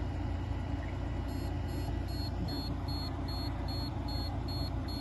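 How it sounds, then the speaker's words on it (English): A buzzer in an LED running light sequencer beeps in a regular, rapid high-pitched pattern of short tones over steady background hiss, repeating about every half second. "the beeping of our buzzer"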